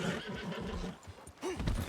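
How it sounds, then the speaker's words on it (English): A horse in Red Dead Redemption 2 whinnies sharply near the end, preceded by soft hoof clops and rustling, fairly quiet overall. "Can't you control that damn horse?"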